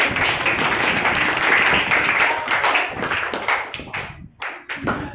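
Children in a classroom clapping together for classmates during a Hindi story lesson, a dense, steady burst of hand claps that thins out and breaks into scattered last claps near the end.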